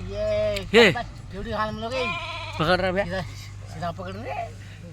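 A flock of sheep at a village farm during milking, several loud, close, overlapping bleats of varying pitch following one another over a few seconds.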